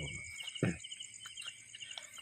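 Crickets chirp in a steady, continuous trill at a quiet, deserted spot, with a couple of soft low thumps close by and no talking.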